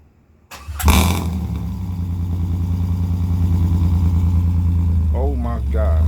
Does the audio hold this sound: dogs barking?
no